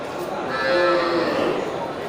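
Bali cattle at a livestock market give a drawn-out, sustained moo over a busy background murmur of the market crowd.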